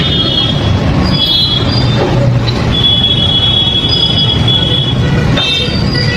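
Freight train on a railway track in Siliguri, carrying JCB bulldozers, rolls past with a steady loud rumble and repeated high metallic wheel squeals throughout, no voices.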